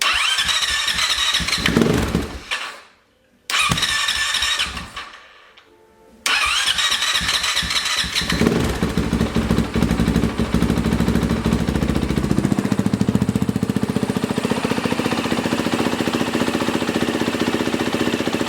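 A rebuilt Honda CRF450R dirt bike engine cranks with loud bursts, cuts out briefly twice, then catches and runs with a steady, loud, close-up rattling idle and revs, with no talk over it.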